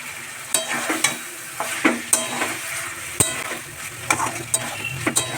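Mixed vegetables are stirred as they fry in a pan in a home kitchen, with a steady close sizzle broken by repeated sharp scrapes and clinks of the spoon against the pan.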